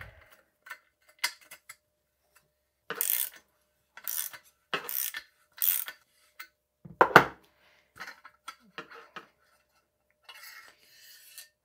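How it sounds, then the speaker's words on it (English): Small metallic clicks, taps and scrapes from removing the damper of a 2018 27.5-inch Rockshox Pike RCT3 mountain bike fork, sparse and close with quiet gaps between bursts. "we take out the damper"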